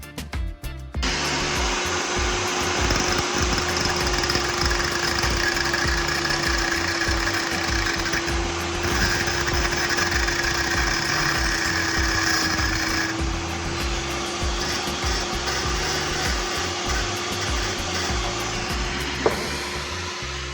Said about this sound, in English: I'll use a cutting machine to carefully slice off the unwanted part of the blade.